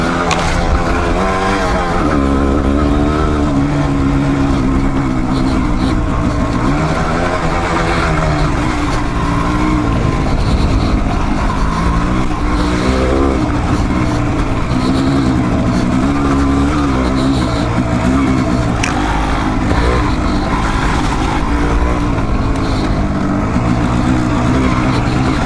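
A Kawasaki KLR650 and a Yamaha DT200r ride off road, their engines droning loud and steady throughout, with the pitch rising and falling as the riders throttle over the terrain.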